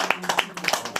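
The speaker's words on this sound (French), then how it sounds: "Est-ce qu'on peut encore applaudir pour ça?" Short, uneven claps from a church congregation at a worship service, a few hands striking in loose rhythm with talk mixed in, fairly close and moderate in level.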